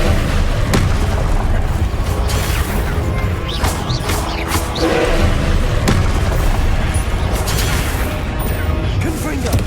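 Spell blasts from the Confringo fire curse in Hogwarts Legacy boom repeatedly through a dense, loud game soundscape of crashes and rumbling, with several sharp bursts spread across the stretch.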